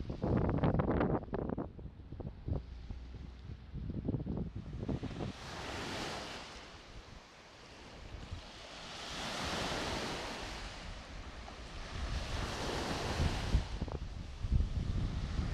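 Surf rolls onto an eroding beach at Azla near Tetouan, Morocco, with broad swelling washes of breaking waves rising and falling over a constant roar, roughened by wind buffeting the microphone.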